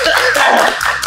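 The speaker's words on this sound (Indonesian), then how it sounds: "tepuk tangan." A small group claps hands during a party drinking game, a quick burst of overlapping claps lasting about a second, close and fairly loud.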